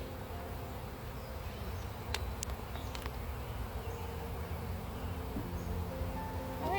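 Honeybees from a split, opened hive hum in a steady, faint, continuous buzz throughout, with no voices, just a few small knocks and rustles near the end.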